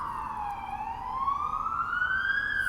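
Police car siren on a street in Spain, a single loud wailing tone that dips low and then sweeps slowly upward, heard fairly close and alone without talk.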